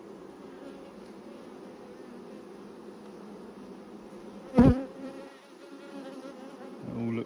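Honeybees drone in a dense, continuous hum from an open hive during an inspection of brood frames, with a sharp thump partway through and a brief spoken word near the end.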